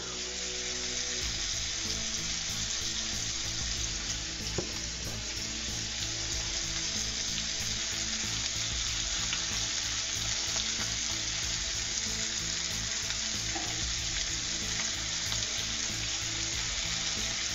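Chile lime scallops searing in a hot pan give off a loud, steady sizzle and hiss, close up and unbroken for the whole stretch, with no voices.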